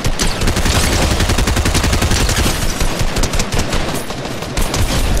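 Dense, loud video game gunfire, rapid automatic bursts pouring out continuously with no pauses, filling the whole moment at close range.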